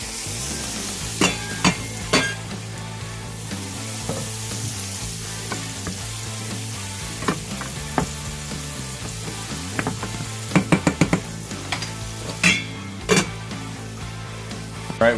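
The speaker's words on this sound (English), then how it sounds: "Add a little more butter and brown sugar on that to start caramelizing the or candying the broccoli and carrots." Butter and brown sugar sizzle with broccoli and carrots in a pan, a steady close frying hiss broken by occasional knocks and scrapes of a utensil against the pan, with no talking.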